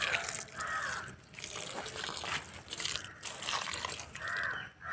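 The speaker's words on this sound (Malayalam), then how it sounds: "അവർക്ക് കുറച്ച് വെള്ളം ഒഴിച്ചു കൊടുക്കാം" Water is poured from close by onto freshly repotted ground orchid and velvet plants in pots, making splashing, gushing pours in several uneven bursts with short pauses between them.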